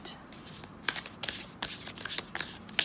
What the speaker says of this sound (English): As suspected, it shuffles beautifully